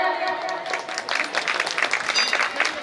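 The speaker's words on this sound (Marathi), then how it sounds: "जोरदार टाळ्या होऊ द्या." A crowd claps steadily at an award felicitation ceremony during a Vishwakarma Jayanti festival and community gathering in Shirpur, Washim, the dense applause holding for a few seconds with a voice faintly mixed in.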